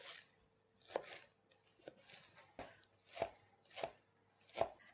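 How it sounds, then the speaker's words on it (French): A knife dices pineapple into small cubes on a board, six or seven crisp separate chops at an uneven pace, close and quiet with no talking. "On coupe l'ananas en petits dés."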